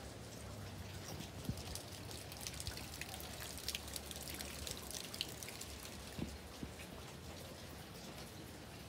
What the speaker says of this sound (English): Rain is getting on my pad.